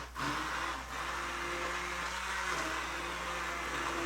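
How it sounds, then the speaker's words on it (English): An immersion blender purees artichoke soup in a pot, giving a steady, close motor whir with a wet churning wash that runs evenly throughout. "I'm going to take my immersion blender and I'm going to puree the soup"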